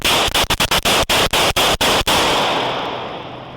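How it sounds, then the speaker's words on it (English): Police gunshots fired in rapid succession, about ten sharp loud cracks in an uneven burst lasting two seconds, followed by a ringing, hissing tail. "Shots fired! Shots fired!"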